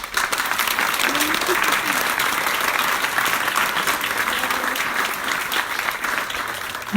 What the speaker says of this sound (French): Je pense qu'on peut t'applaudir bien fort.